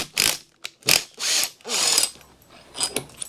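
A ratchet loosens bolts during the primary and cam chest teardown of a Harley-Davidson Evolution Sportster engine, giving several quick bursts of clicking pawl strokes separated by short pauses, close and crisp, with metal clinks between.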